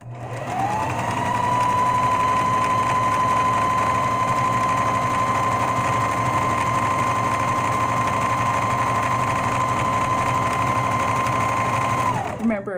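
A sewing machine running a straight stitch at quick speed, a loud, steady motorized whir with a constant rapid mechanical rhythm that holds for about twelve seconds before stopping, with a person talking over it.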